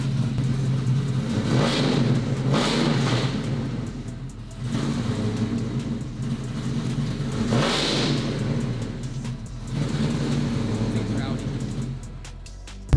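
A built twin-turbo C8 Corvette with an upgraded camshaft revs repeatedly, rising and falling in several pulls over a steady idle, loud and nearby, with voices talking over it.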